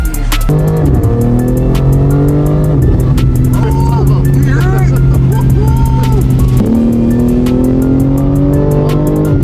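A 700 hp BMW G80 with a built engine revs hard on test, loud and close, its pitch climbing and dropping through several throttle pulls with tire-like squeals and chatter around it.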